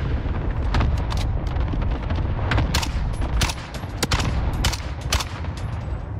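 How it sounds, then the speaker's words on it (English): Gunfire in the video game Call of Duty Warzone, shots fired through a wall, a series of sharp loud cracks spaced irregularly over a constant booming rumble, with no talking. "I'm shooting him through the wall"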